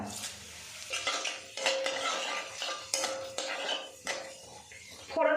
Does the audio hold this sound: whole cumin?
yes